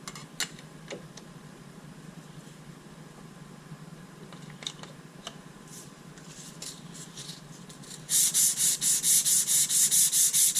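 Dry sanding of a rocket nosecone surface, a run of faint scattered scratches and rubs followed by loud, rapid rhythmic back-and-forth strokes of sandpaper close up near the end, with no voices.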